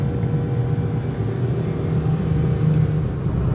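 A Honda Amaze 3G sedan cruises at around 120 km/h on the Delhi–Mumbai Expressway, heard from inside as a steady low engine drone with road and wind roar, no talking.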